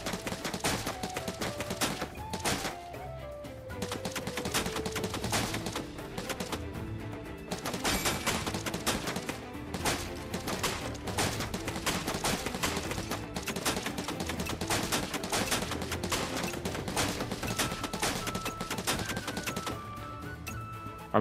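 Rapid gunfire in the video game Final Fantasy 7 Rebirth: dense, fast bursts of shots repeating continuously over game music, loud and busy throughout.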